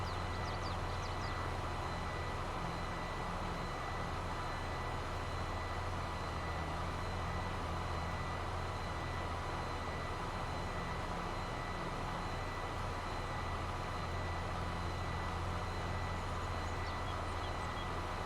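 A John Deere 9RX tractor engine in Farming Simulator drones steadily as a constant, loud, low rumble throughout, with no talk over it.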